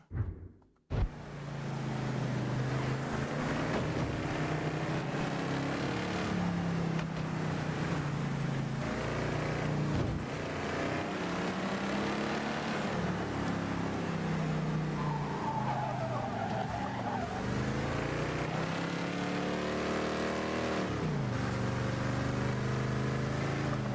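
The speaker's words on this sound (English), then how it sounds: "I do like the way the engine in this truck sounds." A beat-up redneck pickup truck in the video game Mafia III drives with a continuous loud engine drone, its pitch rising and falling as it revs, with tire skids along the way.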